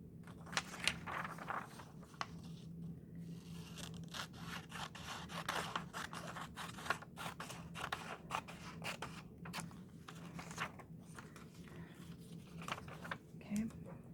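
Scissors snip through paper pattern pieces for flat pattern manipulation in dressmaking, a steady run of short crisp cuts and rustles, fairly close and soft, with a low hum underneath.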